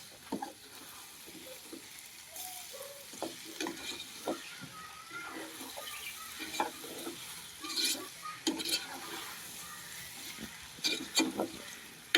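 Onions, green chillies and drumstick pieces saute in a pan, giving a low steady sizzle broken by repeated scraping and clinking stirs, fairly close and moderately quiet, with no talking.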